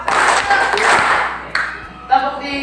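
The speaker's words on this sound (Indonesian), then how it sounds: "Tepuk 2." Hand clapping during a classroom movement exercise, with a few sharp claps standing out over a broadband wash of room noise and faint voices in a teaching setting.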